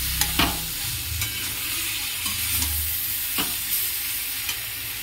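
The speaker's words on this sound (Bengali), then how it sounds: "একটু নেড়ে চেড়ে নেব।" A curry with turmeric is stirred in a pan, a spoon scraping now and then over a soft, steady sizzle, close and moderately quiet with no voices.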